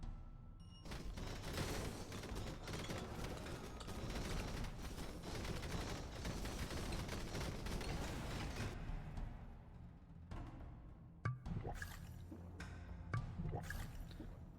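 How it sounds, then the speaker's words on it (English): Flamethrower weapon in Halls of Torment firing nonstop, a dense, loud roaring hiss with crackling bursts that runs steadily for about nine seconds, then drops to sparser crackles and thumps amid game effects. "It's a flamethrower. It shoots constantly."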